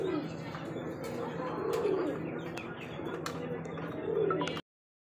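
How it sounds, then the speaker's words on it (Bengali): A pen of pigeons, including Shirazi and other fancy breeds, coos in soft, repeated throaty calls close by, with faint chirps, wing shuffles and a clattering background running throughout. "বন্ধুগণ দেখতে পাচ্ছি এখানে 2 পেয়ার কবুতর।"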